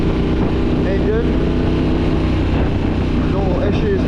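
A Yamaha T7 motorcycle with a cracked engine, out on a ride, gives a steady, loud, dense engine drone with wind rush that never lets up, and a voice is partly audible over it.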